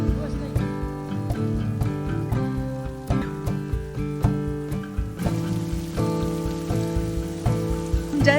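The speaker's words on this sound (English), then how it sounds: "I just reached, but it's raining." Steady rain falls in Rangbull, Darjeeling, a continuous close patter that runs unbroken throughout, mixed with strong tonal, rhythmic sounds resembling music.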